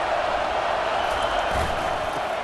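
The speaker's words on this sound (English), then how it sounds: "It is getting loud as this crowd tries to help its defense." A football stadium crowd in EA Sports College Football 25 roars steadily and loudly as the home fans make noise for their defense, a dense continuous wash of cheering with no breaks.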